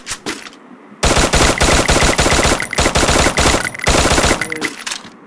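Sustained machine gun fire in the mobile shooter game Free Fire, loud rapid automatic bursts running almost continuously with brief breaks, preceded by a short quieter shot sequence.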